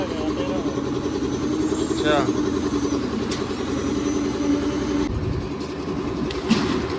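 A tractor's diesel engine idles with a steady low chugging rumble close by at a building site during roof slab casting, while people talk over it.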